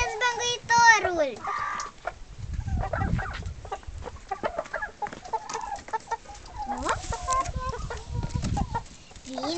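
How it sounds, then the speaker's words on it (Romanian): Hens cluck and cackle at close range in a rural yard, a busy run of squawks, clucks and short calls, with a person speaking softly in between. "Vino, găinușă frumoasă."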